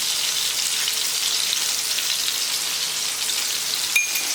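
Ridge gourd sabzi sizzles steadily in a pan just after garlic goes in, a dense, even frying hiss running throughout with a small clink near the end.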